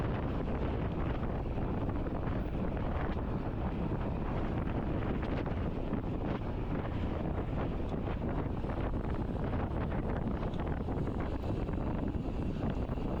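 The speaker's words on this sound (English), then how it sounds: "There's quite a headwind here, which will make it quite difficult for people to attack" Steady, loud wind buffeting a microphone during a Cat B criterium bike race into a headwind, a constant roar filling the whole stretch with no voices.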